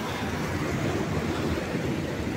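Water pouring steadily over a small check dam at Gundiadka (Nagundi) Falls near Paladka, Mangaluru, a dense continuous rushing wash, close and loud, with no voices.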